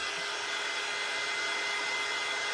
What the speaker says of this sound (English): So, get my dryer. It is plugged in.